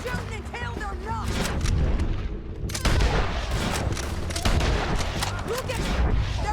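Gunfire in the Western video game Red Dead Redemption 2, rapid repeated shots and booming blasts in a dense fusillade over a continuous battle din, loud and close throughout.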